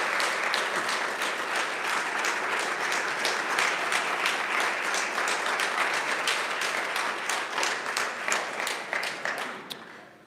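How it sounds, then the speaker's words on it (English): Applause from an audience at a driving academy graduation ceremony: dense, steady clapping that carries on for about ten seconds before thinning out near the end. "can we please give a huge, huge, huge clap and appreciation"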